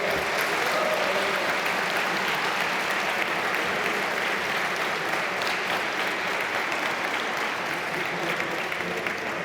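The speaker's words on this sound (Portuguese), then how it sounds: "Portanto, uma salva de palmas para o Tiago." Sustained audience applause at a political party congress, a dense steady wash of many hands clapping throughout with a faint crowd murmur underneath.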